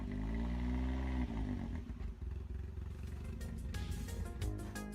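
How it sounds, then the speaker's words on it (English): A car engine revs hard in a driveway, likely through an aftermarket exhaust, a loud, continuous rumbling roar with shifting pitch that stays close throughout. "Look how much he had to rev up just to get into the driveway."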